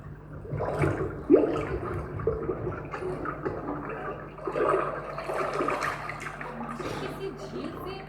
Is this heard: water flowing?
yes